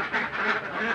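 Ducks quacking together at a duck farm raising laying ducks, a dense, continuous chorus of overlapping quacks held at steady loudness throughout.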